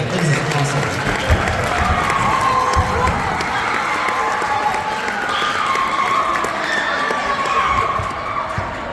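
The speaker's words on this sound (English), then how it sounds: "Give yourselves a round of applause for doing that." A school winter band concert crowd in a gymnasium claps and cheers, a thick roar of applause with scattered shouts and a voice talking over it, steady and loud throughout.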